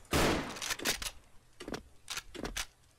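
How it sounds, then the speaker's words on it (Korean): Sniper rifle shots from the video game Special Force, with a sharp crack first and then several quicker, quieter shots and bolt clicks at uneven intervals, fairly faint and with no voices. "한 발 쏘고 다음 발 쏘는 시간까지 딜레이가 확실히 적어요"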